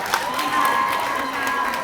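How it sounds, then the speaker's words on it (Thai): An audience at a film gala claps and cheers in a short, dense burst, with mixed voices shouting over continuous applause throughout. "ขอเสียงปรบมืออีกครั้งนะครับ"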